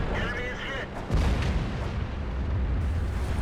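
Artillery shells burst in World of Tanks, a sharp boom landing about a second in after a voice speaks, followed by a sustained low rumble and battle noise.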